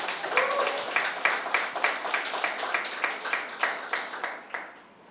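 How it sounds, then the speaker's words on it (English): An audience applauds two debate teams, the Administrator-General's Department and the Jamaica Information Service, after a contest. The clapping is steady and moderately close, with rhythmic swells that fade toward the end. "I think the teams deserve a round of applause"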